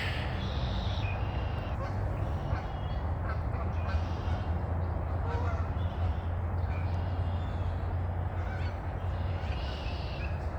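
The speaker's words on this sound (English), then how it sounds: "more Canadian geese taking off right in the background" Canada geese honk while lifting off at a nature preserve on a morning walk, their calls faint and distant over a steady low rumble of background noise.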